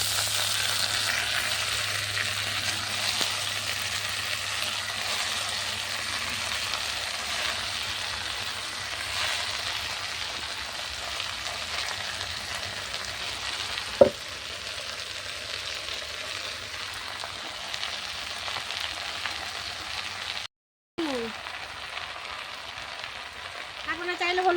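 Chopped water spinach hitting hot oil with fried dry chili, garlic and onion, cooked over a clay stove; a steady broad sizzle persists throughout, with a sharp clink midway and a brief dropout near the end.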